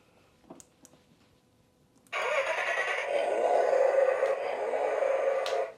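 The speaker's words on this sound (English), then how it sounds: "All right, got a cool startup sound." A kids' ride-on McLaren F1 toy car plays its electronic startup sound: after a couple of faint clicks, a steady synthetic engine roar switches on abruptly and continues at moderate loudness.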